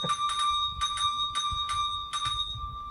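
Repeated bell chimes from a tabletop campaign app, ringing in a steady rhythm with sustained bright tones, close and clear with no talk over them.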